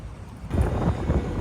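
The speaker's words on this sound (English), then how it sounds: "It's very windy" Strong wind buffets the microphone outdoors beside muddy water, a low rumbling gust that swells loudly halfway through and keeps roaring.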